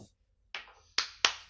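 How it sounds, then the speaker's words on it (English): Four sharp, close hand claps after a brief pause, loosely spaced with the last three coming in quicker succession. "Someone's clapping."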